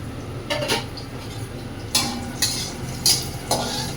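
Metal utensil scraping and stirring bitter gourd in a pan, a few bright clattering strokes over a soft background sizzle.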